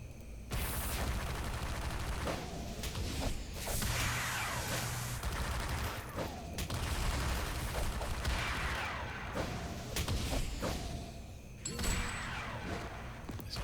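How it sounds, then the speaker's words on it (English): An auto turret fires steadily in the video game City of Heroes, dense rapid bursts of gunfire and mechanical shots with whooshing effects running almost without pause, loud and close, with no voices. "This auto turret is so accurate."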